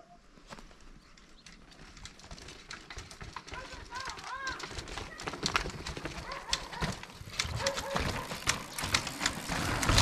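Horse hooves clip-clop at an outdoor downhill mountain bike course in Benijos, Tenerife, irregular and fairly close, mixed with people talking, birds and other outdoor noise.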